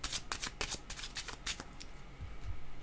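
A deck of tarot cards is riffled and shuffled by hand, giving a rapid run of crisp flapping and snapping card sounds that thin out toward the end, close up, with no speech.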